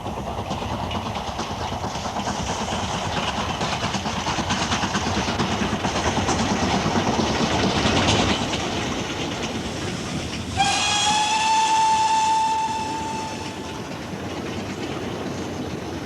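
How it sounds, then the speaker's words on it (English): A steam locomotive on the Somerset & Dorset Railway works hard up a heavy gradient, its exhaust beating loud and continuous over rolling wagons, then a long steam whistle sounds clearly near the end. "There'll be a lovely sound coming out of the exhaust."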